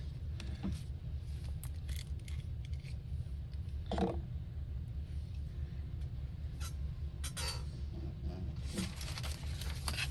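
A paper napkin's edges are torn by hand while crafting a journal page: a few short, crinkly ripping bursts spaced apart over a steady low room hum, close and fairly quiet.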